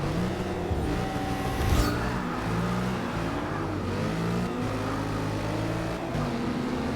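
A race car engine in the Forza Motorsport 6 racing game revs loudly and continuously, its pitch climbing and falling through gear changes, with a brief louder surge near the middle.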